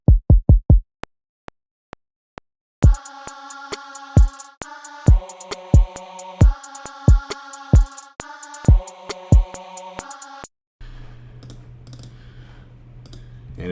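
Kick drum pattern laid down in Logic Pro X for a trap beat: sharp, punchy thumps and clicks in an uneven rhythm over a sustained synth tone, ending in a low droning hum.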